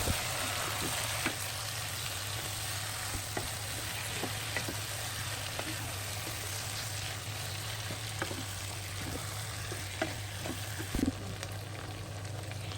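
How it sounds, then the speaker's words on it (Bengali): Chicken pieces frying in hot oil, a dense, steady sizzle that runs unbroken and close throughout, with occasional small pops and faint stirring knocks. "চিকেনগুলো সামান্য একটু সে নাকি ভেজে নিবে"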